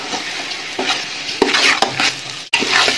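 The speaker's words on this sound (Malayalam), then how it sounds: "ഇത് നമുക്ക് ഈ നെയ്യിൽ ഇട്ടിട്ട് ഈ അരിയൊന്ന് വറുത്തെടുക്കാം" Rice fries in ghee while a spoon stirs and scrapes it around a pot for beef biriyani, a close, busy sizzle broken by clinking strokes and one brief pause.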